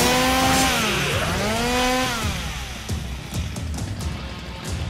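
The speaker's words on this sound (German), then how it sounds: "Der Typ mit der Kettensäge." An enemy's chainsaw in the video game DmC Devil May Cry revs loudly and continuously, its whining pitch sweeping up and down, then settles into a rougher idle with sharp game hits and clanks.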